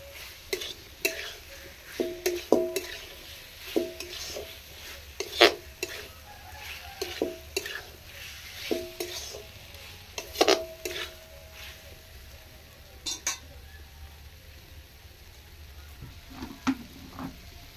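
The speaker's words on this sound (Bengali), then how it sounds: "ভালোভাবে কষে নেব যেন আলুর মধ্যে মশলাটা ঢুকে যায়, এইভাবে কষতে হবে।" Potatoes sautéed with spices in a pan, heard as quiet close stirring with scattered spoon clinks and scrapes against metal over a faint background sizzle, in irregular bursts.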